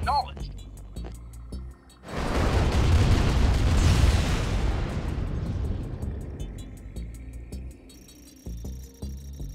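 Ion cannon strike in Command & Conquer: Tiberian Dawn Remastered, a sudden loud booming blast that swells, rumbles for several seconds and slowly fades, with short unit acknowledgement voices around it.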